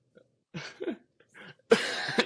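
A few soft, breathy coughs in quick succession, then one louder, rougher cough at the end, close and otherwise quiet.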